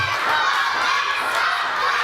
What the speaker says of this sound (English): And the crowd gets louder as Liam Thomson fights to his knees.